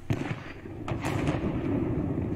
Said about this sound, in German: mit zwei Kanonen sollte dann das Schiff auch versenken